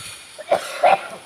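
A person coughs in a forest: two short, husky bursts, the second stronger, fairly close against quiet surroundings.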